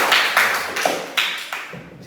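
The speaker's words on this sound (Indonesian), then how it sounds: "tepuk tangan dulu buat Ecan" Small classroom group claps for a student, a handful of sparse, distinct claps spaced irregularly over about two seconds, close and fairly loud.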